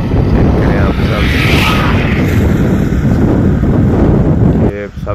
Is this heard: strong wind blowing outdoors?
yes